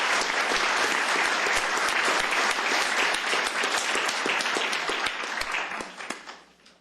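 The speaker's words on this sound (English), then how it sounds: "Let's give them a round of applause." A roomful of people at a county commissioners court meeting applauds, thick steady clapping holding strong for about six seconds before tapering off to a few final claps.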